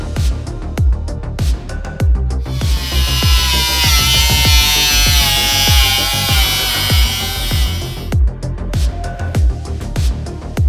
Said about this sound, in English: so I'm gonna get this bastard welded so I can get this thing done